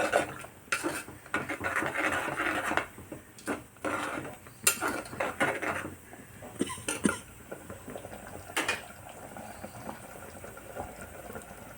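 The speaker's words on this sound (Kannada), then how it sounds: "ಎಣ್ಣೆ ಎಲ್ಲ ಮೇಲೆ ಬರೋ ತನಕ ಸ್ವಲ್ಪ ನಾವು ಕುದಿಸೋಣ" Chicken masala in green chilli gravy simmering in oil in a pan, with soft bubbling and occasional clinks of a spoon against metal; the sounds come close and intermittent, alternating between sharper bursts and quieter stretches.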